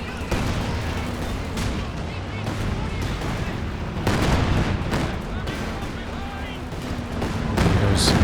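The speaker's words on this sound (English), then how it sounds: "Bunker busting barrage." In Company of Heroes 2, a bunker-busting artillery barrage sends dense, repeated booms and blasts rolling out over continuous battlefield rumble. The strikes come loud and close, and the pounding swells toward the end.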